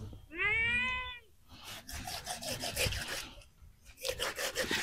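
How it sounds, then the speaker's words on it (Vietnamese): A hungry cat gives one clear, close meow with a rising and falling pitch, followed by rhythmic rasping and scraping sounds like chewing or rubbing at a forest home. "Con mèo này chắc cũng đói rồi."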